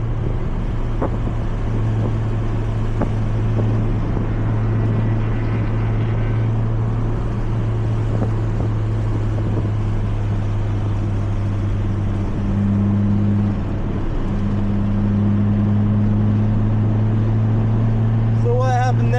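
A car on a race track during a track day, engine droning steadily at high revs from inside the cabin with slight pitch shifts as the throttle changes, loud and continuous, with talk over it.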